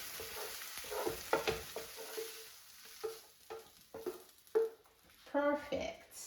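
Potatoes and tomatoes frying in a pan give a soft sizzle under intermittent stirring scrapes and light clinks of a utensil against the pan, close up and fairly quiet.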